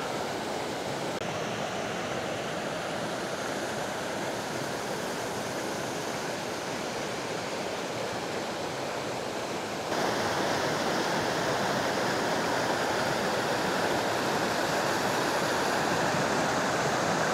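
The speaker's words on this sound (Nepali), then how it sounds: "यो हो हाम्रो लौके झरना" Laukea waterfall in Nuwakot near Kathmandu roars as a dense, constant rush of falling water, loud and close, swelling slightly partway through with no voices.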